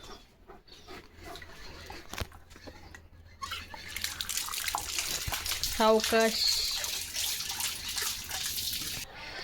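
A German Shepherd drinks from a running tap outdoors, with splashing water and lapping building up in the second half, while a person speaks briefly nearby.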